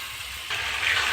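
Fried pointed gourd and potato dropped into cooked masala in a pan, a steady frying hiss that swells louder halfway through as the vegetables hit the oil, close and continuous.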